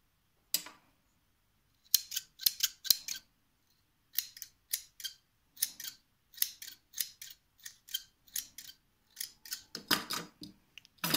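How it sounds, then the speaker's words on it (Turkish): Small scissors snipping white thread during handmade lavender bouquet craftwork, a series of crisp close metallic clicks in irregular clusters, quiet gaps between, with no voice. "İpimizin fazlasını kestik."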